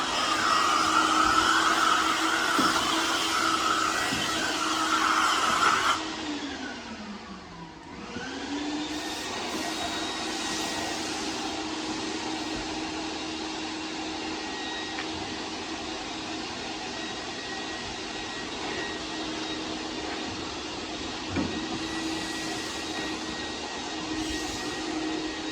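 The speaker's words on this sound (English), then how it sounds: "Mark doing the seat shampoo with the steamer extractor." Steamer extractor shampooing a car seat during auto detailing: a continuous loud vacuum-like roar with a high whine that dips and shifts in pitch, then settles into a steady drone for the rest of the clip.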